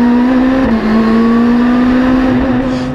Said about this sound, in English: Upshift is completed under full throttle.